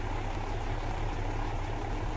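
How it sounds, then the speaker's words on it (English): A truck engine in the video game Euro Truck Simulator 2 drones steadily, with a loud, constant low idle rumble and no breaks. "This engine's really loud."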